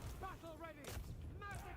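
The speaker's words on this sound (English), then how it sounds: "that cannon barely clipped the Medusa" Cannon fire in a Dark Elves fantasy strategy battle game, a couple of booming shots heard under continuous commentary from a player.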